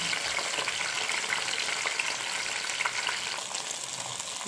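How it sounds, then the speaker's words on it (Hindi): Sliced okra and green chillies fry in hot oil, giving a steady, dense sizzle with crackling pops that holds evenly throughout, close and fairly loud, with no voices. "भिंडी और सब्ज़ मिर्च जो हमने काटी थी इसको हमने फ्राई करने के लिए इसको रखा हुआ है"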